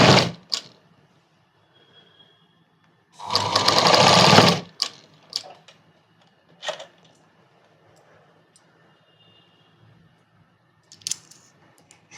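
A sewing machine stitches a kids' night dress in one loud, steady run of rapid needle clatter lasting over a second, with scattered soft clicks and handling taps before and after in a quiet room.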